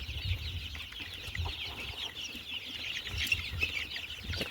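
Soft, scattered clucks and peeps come from a group of 20-to-30-day-old desi Aseel chicks on a farm, faint and continuous with a low background hum.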